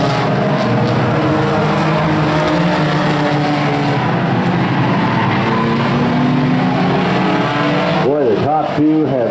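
Hornet-class race cars roar around Evergreen Speedway during the main event, a loud continuous engine drone with passing cars swelling near the end and an announcer talking over it.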